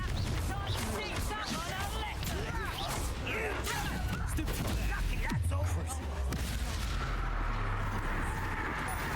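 Fiery spell blasts and game combat effects from Hogwarts Legacy burst through a dense, loud mix, with a deep explosive thud midway, while a player shouts over it.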